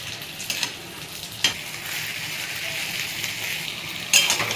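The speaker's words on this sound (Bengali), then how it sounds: "5 মিনিট পরে ঢাকনাটা খুলে আবার একটু নাড়িয়ে চাড়িয়ে নেব।" Cabbage and chicken fry in a wok under a constant sizzle, with a few sharp scraping stirs of a spatula against the metal, close and loud.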